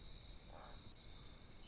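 Crickets chirp steadily at night, a faint, continuous high trill that runs unbroken under a quiet ambient bed.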